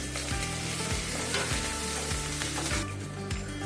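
Garlic, green chili and curry leaves fry in hot oil with a loud, continuous close sizzle, broken by regular scraping stirring strokes roughly twice a second.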